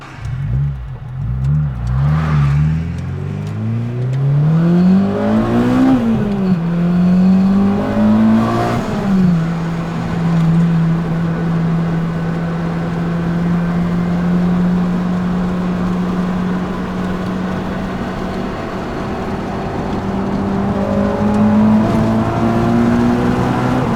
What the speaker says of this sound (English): Definitely does feel good to drive this car again.